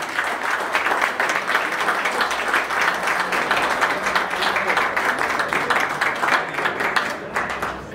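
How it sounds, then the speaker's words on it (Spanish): An audience applauds steadily at an award ceremony for a jaripeo promoter in La Mora, Jalisco, a sustained mass of clapping close by that thins slightly near the end. "Fuerte el aplauso, que se escuche."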